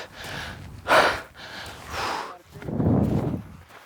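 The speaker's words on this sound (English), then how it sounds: "I'm breathing heavy." Heavy, labored breathing after running up chat piles: several loud, close gasping inhales and exhales in an uneven rhythm, with no speech.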